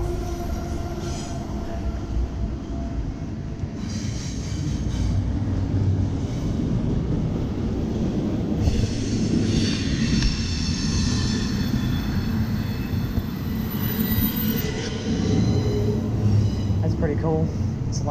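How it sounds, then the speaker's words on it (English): A train rolls past an old industrial plant site, its loud steady rumble filling the whole stretch with squealing wheels and clanking cars, staying close and continuous from start to finish. "we got a train coming."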